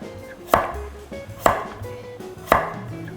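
Knife cutting sweet kabocha squash into 0.5 cm slices on a board, three sharp, separate chops spaced about a second apart, close and clear with no voices.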